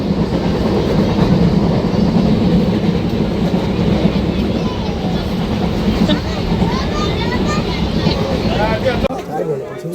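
A passenger train rolls along at a station-bound trip, a loud continuous rumble with rattling carriages and faint crowd babble inside the coach, fading near the end.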